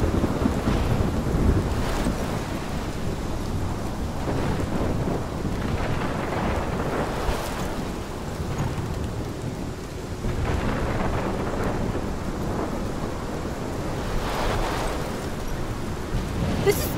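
A thunderstorm with heavy rain in the Life is Strange video game. Steady loud rain runs throughout, with low thunder rumbling and swelling several times and wind noise mixed in.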